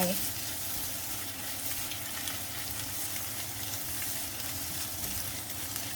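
An egg fries in a pan for a konjac rice vegetable stir-fry, giving a steady, dense sizzle that carries on without a break from start to finish, close and moderately loud.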